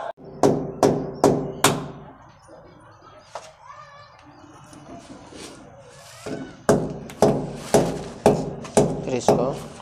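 A water pipe is clamped to a wall while a commercial RO plant is installed, with two runs of sharp, evenly spaced hammer blows close by and a quieter stretch of rubbing and handling between them.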